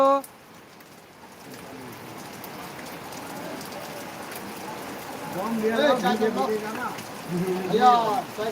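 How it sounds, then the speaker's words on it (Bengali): Steady rain falls on surfaces during a downpour in the Harichandrapur area, a continuous hiss throughout, with a voice talking over it in the second half. "আর বৃষ্টি হচ্ছে আমাদের এই হরিচন্দ্রপুর থানায় বৃষ্টি প্রচলতা ভালোই বৃষ্টি হচ্ছে তোমরা দেখতেই পাচ্ছ"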